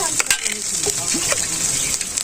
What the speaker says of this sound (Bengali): ভালো ভাজা হয়ে গেছে এখন কিন্তু সামান্য পরিমাণে জল দিয়ে দিন